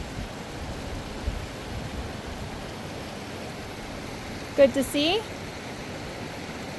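Jenny Creek flows in a steady, soft broadband rush of running water, close and unbroken throughout, with someone briefly speaking near the end.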